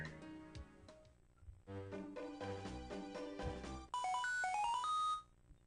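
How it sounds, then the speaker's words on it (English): A video-game X-Transceiver from Pokemon Black rings with a bright synthesized chiptune melody that ends in a rising ringtone jingle. It plays alone, with no talk over it. "Oh, there goes my X-Transceiver again."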